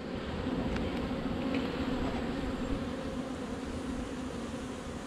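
Honey bees buzz steadily at an open hive, a close, continuous droning hum with no pauses, faint against a soft background.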